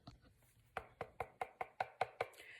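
A knife chops through the hard outer shell of a butternut squash in about eight sharp, evenly spaced cuts, close and distinct against a quiet background with no talking.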